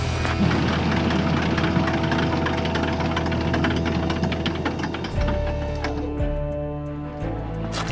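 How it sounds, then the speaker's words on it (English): A 14-ton plane's number 2 engine runs on the ice, a dense, loud mechanical drone that abruptly drops around five seconds into lower, steadier tones with clattering bursts, and no voices. "Engine number 2 is ready to go."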